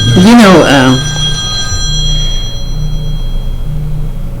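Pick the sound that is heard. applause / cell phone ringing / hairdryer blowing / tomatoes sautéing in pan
cell phone ringing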